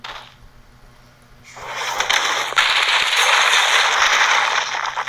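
A Boom skill explosion goes off in a Roblox game, starting with quiet background, then a loud burst of dense crackling and popping that holds steady for several seconds.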